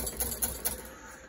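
A whisk beats oil into a sauce in a bowl for an eggs Benedict-style dish, giving a few quick, light clicking taps close by, with no talk.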